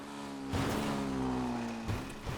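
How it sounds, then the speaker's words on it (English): A rough, rattling engine of a Maibatsu Manchez Scout dirt bike in GTA Online idles and revs with a buzzy, uneven drone, close up and fairly loud throughout. "There's already a very nasty engine rattle on the Manchez Scout."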